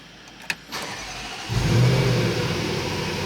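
A car engine roars to life after a faint click and revs up, then holds at a steady, loud drone.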